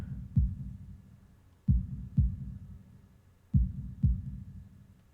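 Heartbeat sound effect from the PC visual novel Katawa Shoujo, heard as five deep, thumping low beats in loose lub-dub pairs, close and steady, with no other sound around them.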